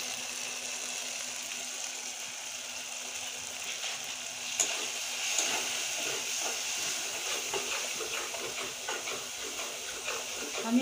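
Spice paste with turmeric powder sautéing in oil for an eggplant curry, a steady soft hiss and sizzle with faint scraping stirs throughout, close and even in level.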